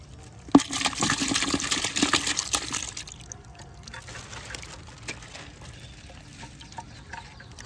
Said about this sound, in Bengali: দেখুন এই মাছ এনেছি, ঢালছি।